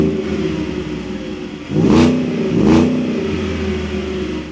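A 775-horsepower Ford F150 Shelby pickup's engine starts and revs up loud and close, with two sharp throttle blips rising over a steady idle rumble, alone without talk.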